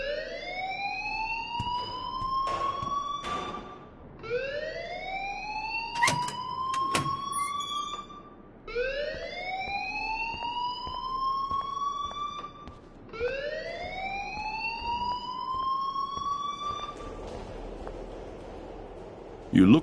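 Alarm in a video game, a loud rising whoop repeating about five times at even intervals with people talking over it.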